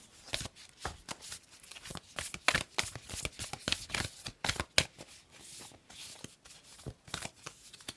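Tarot cards being shuffled by hand, a close run of crisp riffling flutters and soft slaps in an uneven rhythm, with no speech.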